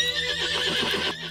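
A horse whinnies in the Princess Peach Showtime video game, a loud, wavering neigh lasting just over a second, with faint hoofbeat-like clip-clops beneath it.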